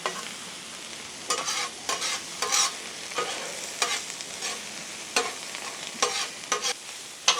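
Spinach sizzling in butter on a flat griddle, a steady close frying hiss broken by bursts of scraping and stirring as it wilts, with no voices.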